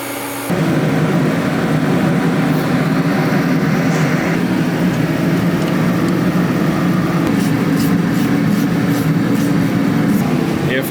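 A car engine fitted with a new SR-Z exhaust starts and settles into a loud, steady running roar with a raspy exhaust tone close to the microphone.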